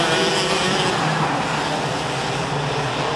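FS-125 class racing karts scream down the home straight at a national kart race, a loud continuous high-revving engine roar that holds steady throughout.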